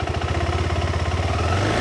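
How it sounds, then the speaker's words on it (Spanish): Motorcycle engine running close by with a steady low idle that thickens as the throttle opens toward the end, mechanical clatter riding over the rumble, no talk. "Prendo la moto, la enclocho, meto primera, bajo el pie acá, me apoyo y ahora acelero"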